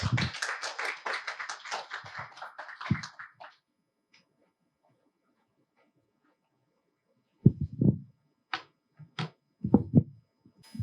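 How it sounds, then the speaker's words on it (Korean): A seminar audience claps to welcome a speaker, a burst of steady applause for about three seconds that fades out, followed after a pause by a few scattered taps and bumps. "박수로 맞이해 주시기 바랍니다."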